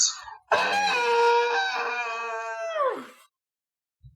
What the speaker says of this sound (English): as you can hear suddenly a scream coming from the distance, echoing in, blood curdling and cold